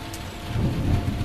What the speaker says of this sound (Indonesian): petir dan tiba-tiba hujan turun cukup deras